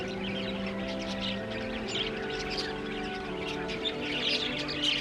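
Small parrots in a date-palm garden in Medina give faint, scattered high chirps and tweets over a steady low hum and background noise.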